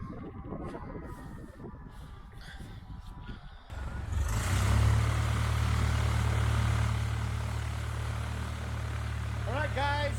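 A small propeller airplane's engine roars up loudly partway through and holds a steady, close drone to the end, with quieter background sound and faint voices before it.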